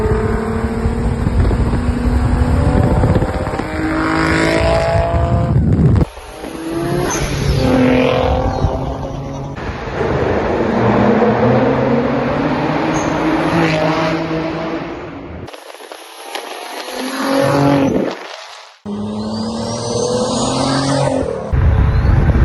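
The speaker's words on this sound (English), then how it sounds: "Time to hear some raw turbo noises." A twin-turbo Infiniti G37 with rolling anti-lag revs hard: a loud, sustained engine roar that climbs and falls through repeated pulls, broken by brief drops and a short near-silent gap.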